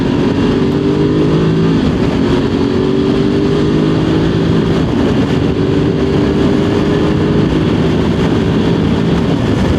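A Voge 900DSX motorcycle accelerating hard from riding position, its loud steady engine roar rising in pitch, then dropping briefly at quick-shifter gear changes before climbing again, with constant wind rush and no talking.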